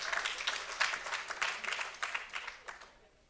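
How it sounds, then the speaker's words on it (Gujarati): An audience applauds for Janakbhai at a Mother's Day religious gathering: dense, steady clapping from many hands that swells in waves and then fades away toward the end. "તો એકવાર એમને તાળીઓથી વધારવા જોઈએ બધાને આપણે."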